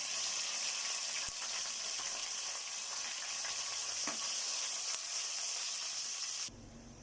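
Spices, curry leaves, green chillies and shahi jeera dropped into hot oil for aloo biryani fry with a continuous close sizzle and crackle, a couple of sharp clinks, before the sound abruptly cuts quieter near the end.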